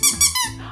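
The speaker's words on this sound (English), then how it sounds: "It makes my students laugh because it squeaks." A little squeaky toy pig gives three quick, bright squeaks in a row, close and loud, each squeeze slightly different in pitch.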